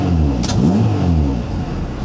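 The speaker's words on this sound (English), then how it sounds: "let's just start it up and see if the throttle position is correct or not" A Honda CRX with a B16A1 engine starts and revs, a loud close mid-pitched engine with a quick rising and falling rev.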